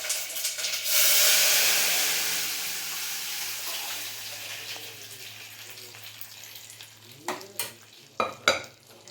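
Masoor dal tadka tempering hisses loudly at first, then fades to a softer sizzle as it is stirred, with a few sharp clinks of a spoon or vessel near the end and no talk.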